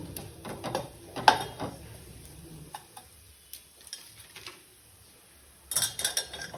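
Ground garlic chili powder is stirred in a frying pan, with sparse scraping and clinking of a utensil against the pan, quiet gaps between bursts and a louder flurry at the end.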